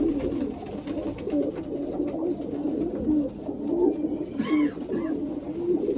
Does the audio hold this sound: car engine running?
no